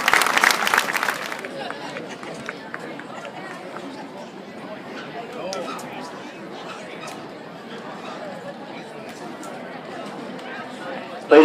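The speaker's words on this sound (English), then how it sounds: "Please, everybody, stand and give some applause for these heroes." Audience applause at a high school sports Hall of Fame induction ceremony: a loud burst of clapping at the start gives way to softer scattered claps and crowd chatter in a large room.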